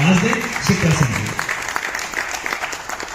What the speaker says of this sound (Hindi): एक बार जोरदार तालियां बजा करके आवाज दें